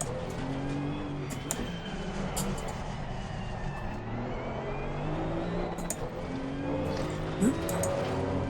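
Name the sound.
GT2 race car engine revving to the limit in video game Assetto Corsa Competizione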